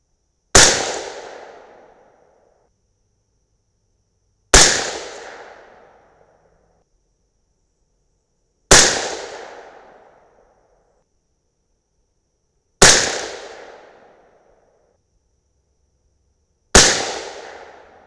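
Five single shots from a 6mm ARC rifle at a shooting range, each a sharp loud crack with a decaying tail, spaced roughly four seconds apart with near silence between them.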